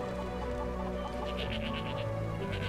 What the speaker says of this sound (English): Inside of the animal pen, you have several goats, cows, chickens,